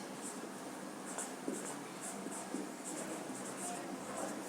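Marker or chalk writing on a classroom board, faint soft scratchy strokes in short repeated bursts against a quiet room hiss, with no one speaking.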